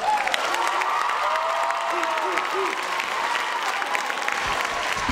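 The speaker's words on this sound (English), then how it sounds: "Applaud that poet." Audience applause and cheering for a poet after a spoken-word poem at a comedy show, a dense steady wash of many hands clapping with whoops and voices throughout.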